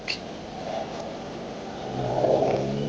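Road traffic near a farm area in Santo Tomas, Batangas, a steady low car rumble with an engine swelling louder toward the end, no voices.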